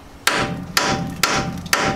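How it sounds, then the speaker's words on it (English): Four loud, evenly spaced hammer blows ring out up close as a socket is beaten onto a badly seized nut during Jeep XJ knuckle and hub removal, each strike followed by a short metallic ring, with no voices. "Hammering on a socket."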